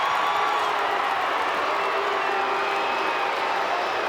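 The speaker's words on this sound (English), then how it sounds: "Well, you can hear what the crowd thinks about that." A stadium crowd at a women's State of Origin rugby league match between New South Wales and Queensland reacts to a referee decision with a sustained, loud, broad roar of voices and jeers.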